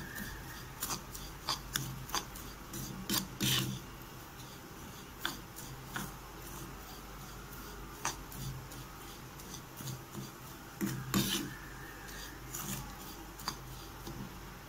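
Semolina (rava) with mustard seeds, curry leaves, chana dal and urad dal is roasted and stirred in a pan for rava idli, with repeated scraping, rasping strokes of a spoon at an irregular rhythm, fairly close, with no talk.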